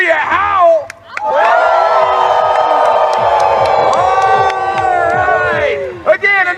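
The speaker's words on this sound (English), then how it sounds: "Let me hear you howl" Rodeo crowd at a horse show howling like wolves, many voices in long rising and falling howls mixed with cheers and whoops, loud and sustained, beginning and ending with scattered shouts.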